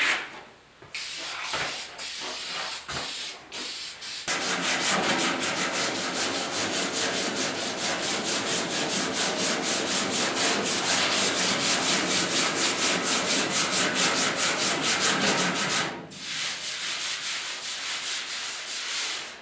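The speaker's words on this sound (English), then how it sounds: "So I'm going to stroke everything with 80 grit. Just a light one so that I get everything nice and straight." Steady back-and-forth hand sanding with 80 grit paper on the cab bodywork of a 1972 Ford F100 4x4, a dense continuous rasping scrub after a few brief opening strokes, close and loud, with no talking.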